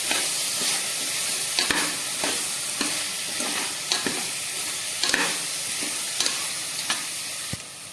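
Tomatoes and chili powder frying in a pan while being stirred, a steady sizzle broken by a series of sharp spoon scrapes and taps at irregular intervals, close by and with no voices.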